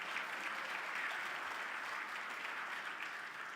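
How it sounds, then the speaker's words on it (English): Sustained applause from an audience at an awards event honoring young investigators, a dense, even wash of clapping held at steady volume throughout, no talk over it. "Get another round of applause."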